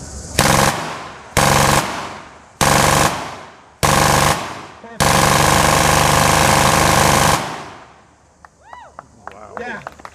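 An Axis machine gun fires blanks outdoors, loud and close: four short bursts with gaps between them, then one long sustained burst, followed by fading echoes and a few voices.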